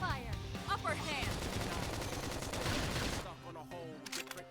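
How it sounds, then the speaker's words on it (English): Rapid bursts of gunfire in Xenoblade Chronicles X: Definitive Edition rattle continuously, loud and dense, with other game effects and voices mixed in before it cuts off near the end. "Try toppling it with gunfire!"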